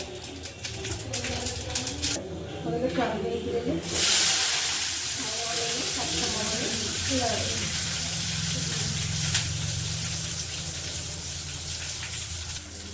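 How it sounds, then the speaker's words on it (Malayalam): Oil sizzling and crackling in a pan, like mustard seeds popping, with a person talking over it throughout. "കടുക് പൊട്ടുന്നുണ്ട്"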